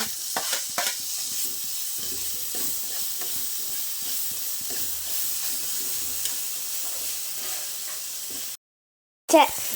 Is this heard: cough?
no